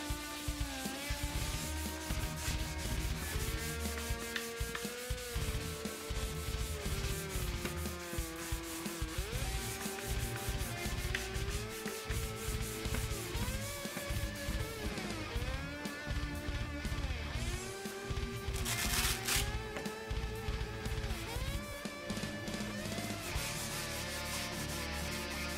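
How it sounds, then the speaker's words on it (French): Fine 1000-grit sandpaper rubbing over a dried epoxy finish: a continuous, even scratchy hiss of back-and-forth strokes, moderately loud and steady, with a tonal music bed underneath. "On laisse sécher et on ponce avec du mil."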